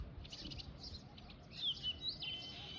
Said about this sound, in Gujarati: મસ્ત ચકલા નો અવાજ આવે છે